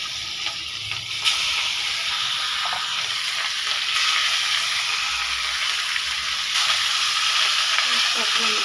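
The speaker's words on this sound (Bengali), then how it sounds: "কাতলা মাছের মাথাটা ভাজতে দেবো।" A catla fish head fries in hot oil, giving a loud, continuous sizzle and hiss with faint crackles and occasional stirring noises.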